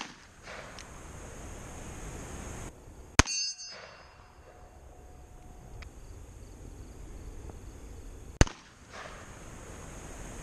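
A revolver fired in single action outdoors: two sharp, loud shots several seconds apart, each with a ringing tail, over faint steady wind.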